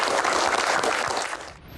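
Applause from an audience at a Q&A session, a dense steady wash of clapping that fades out toward the end.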